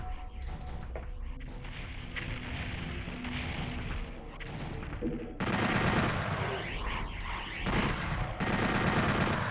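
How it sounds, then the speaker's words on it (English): Cyberdemon firing at the player in Doom 64 Retribution: dense, sustained bursts of explosive gunfire through the whole stretch, loud and close, swelling louder partway in, with no talk over it. "Something's still shooting at me. That's a cyber demon."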